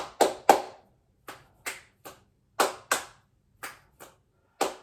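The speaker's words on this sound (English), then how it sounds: "keep working on my clap snaps" Hand claps mixed with finger snaps during a relaxed stress-relief fitness warm-up, about a dozen crisp, close, separate hits in an uneven rhythm with silence between them.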